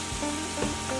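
Unsalted butter sizzles and fries in a pan as the base for a bean gravy for red beans and rice, a steady close crackle with a stir or two and no talking.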